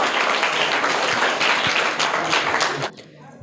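A studio audience bursts into loud, dense applause for a child's correct quiz answer, sustained clapping that cuts off sharply near the end, leaving a quieter room.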